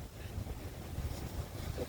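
Gusty wind buffets the microphone on a boat outing at Infanta, Quezon, a low roaring rumble with soft wash behind it that stays steady for two seconds, without voices.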